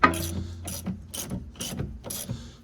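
A 14mm ratcheting wrench clicks in five quick, evenly spaced bursts on a Honda Fit rear shock bolt, each a close, sharp pawl rattle separated by brief pauses.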